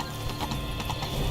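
Horse hooves clip-clopping in a video game, a short quick run of hoof beats over a dense, busy background.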